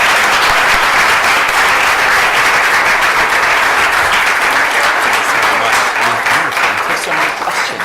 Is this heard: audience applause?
yes